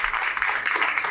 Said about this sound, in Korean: 나눔을 해주신 이경희 원님께 한 번 더 큰 박수를 부탁드리도록 하겠습니다